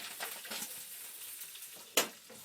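Onions, green peppers and pepperoni frying in a pan for baked spaghetti: a soft, close sizzle broken by a few stirring scrapes, then one sharp, loud clack of a utensil near the end.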